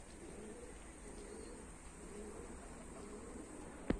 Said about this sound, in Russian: Николаевские голуби опять шмалят.